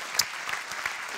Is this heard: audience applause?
yes